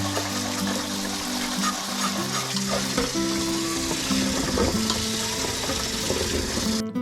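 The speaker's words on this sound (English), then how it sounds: "Giving everything a second good rinse here now that everything's been cut up." Cut crab apples rinsed in water for jelly, with continuous splashing and running-water wash, steady and close throughout, punctuated by small clatters of fruit and a low tonal hum beneath.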